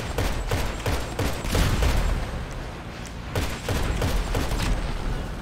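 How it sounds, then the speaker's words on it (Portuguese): Bursts of automatic gunfire in GTA V, repeated rapid volleys firing close and loud throughout, with deep booming thuds mixed in. "O cara tá muito tiltado fazendo rajada, velho."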